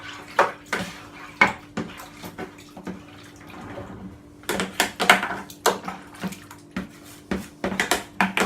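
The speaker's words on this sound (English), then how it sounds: "I'm also going to wash this because I want to use the same container for the bottling." Water runs and splashes while a plastic homebrew yeast container is rinsed, with repeated knocks and clatters as it is handled and shaken, close up and fairly quiet.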